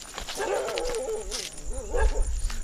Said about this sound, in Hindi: दो कुत्तों के आवाज आ रही है